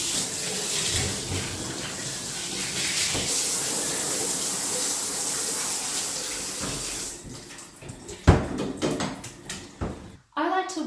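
Tap water runs steadily while a dog is rinsed at home, a continuous broadband splash, loudest in the first seven seconds and then tapering into sporadic drips and handling clatter, with a voice speaking over it.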